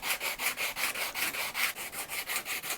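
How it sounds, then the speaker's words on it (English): A medium-firm sanding block with 180-grit paper rubs back and forth over a rosewood Telecaster guitar body in a steady rhythm of about a dozen quick, close, scratchy strokes. "We'll run the sanding block across here."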